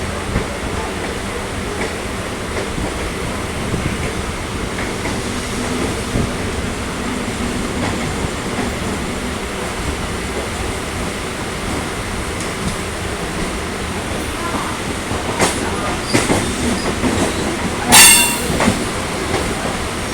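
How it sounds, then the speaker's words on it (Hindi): South Eastern Railway EMU local train running in the Howrah area, a continuous loud rumble of wheels with rattling clatter, growing busier toward the end with a brief sharp squeal. "उधर से साउथ ईस्टर्न का लोकल निकल पड़ी।"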